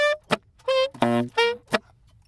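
A voice imitates a saxophone in beatbox style, its upper melodic line moving over a held harmony, with tonal sax-like notes alternating with crisp percussive mouth clicks in a short, close, solo phrase.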